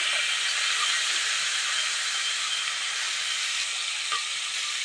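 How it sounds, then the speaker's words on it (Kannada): Onions and green chillies fry in a hot pan for a tomato bath dish, a loud, steady, close sizzling hiss that continues without a break throughout. "ಈರುಳ್ಳಿ ಟ್ರಾನ್ಸ್ಪರೆಂಟ್ ಆಗೋವರೆಗೂ ನಾನು ಫ್ರೈ ಮಾಡ್ಕೊಳ್ತೀನಿ."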